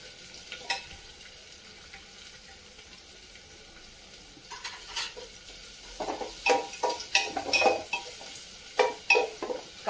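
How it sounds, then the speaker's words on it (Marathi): Finely chopped onion sautéed with whole spices in a pan for a vegetable soya biryani: soft sizzling under a spatula that scrapes and clatters against the pan, quiet at first and then a quicker run of louder stirring knocks. "त्यामध्ये टाकून घेत आहे बारीक चिरलेला कांदा"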